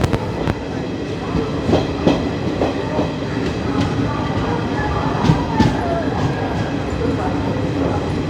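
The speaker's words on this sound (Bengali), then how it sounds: "বর্ধমান জাংশনে আমাদের ব্ল্যাক ডায়মন্ড এক্সপ্রেস এসে পৌঁছালো" Black Diamond Express train pulling into Bardhaman Junction, a steady rumble of rolling wagons with clicking wheel beats and occasional sharp knocks, station voices murmuring underneath throughout.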